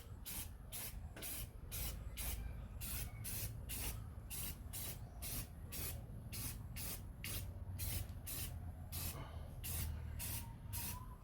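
Spray gun laying down the first coat of paint on a Golf car: a long series of short, evenly spaced hissing bursts, steady and close, over a low background rumble, with no voices.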